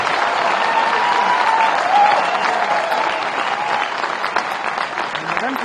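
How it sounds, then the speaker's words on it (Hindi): An audience at a stage event with medal winners claps in steady, loud applause that continues throughout the clip, with crowd noise underneath. "अब तालियां बजाओ 5 के 5।"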